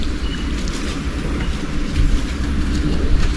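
Water pouring steadily into a large fish tank for monster fish such as arapaima and snakehead, a continuous broadband rush and gurgle with a low rumble, no voices.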